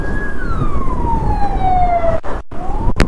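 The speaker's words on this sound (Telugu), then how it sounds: "అంబులెన్స్ వస్తుంది." An ambulance siren wails on a road near Munnar, Kerala, a loud sliding tone that falls steadily in pitch as the vehicle passes close by, then cuts off abruptly with a brief second blip.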